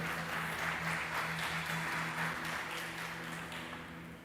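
A church congregation at a Portuguese-language sermon applauds in a soft, steady patter of many hands over a low sustained musical hum, gradually thinning and fading toward the end.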